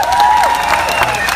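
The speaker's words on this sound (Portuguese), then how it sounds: "As nossas palmas e o nosso carinho para o Paulo no contrabaixo" Audience applause and cheering at a live concert for Paulo, a double bass player, a dense crowd wash of clapping with a sustained tone fading early, loud and continuous throughout.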